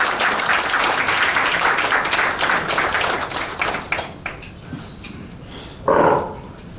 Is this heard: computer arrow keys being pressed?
no